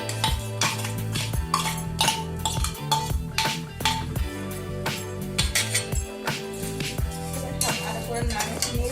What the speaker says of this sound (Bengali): ভালো করে নেড়ে নিই আমরা।